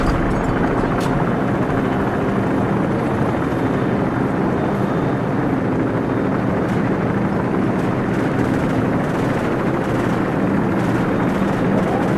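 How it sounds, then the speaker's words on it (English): In Call of Duty 4: Modern Warfare on Xbox 360, loud, continuous thudding roar of helicopter rotors close by, heavy and unbroken, with faint radio-style chatter mixed underneath. "Crew, be advised, friendly helicopters entering the area."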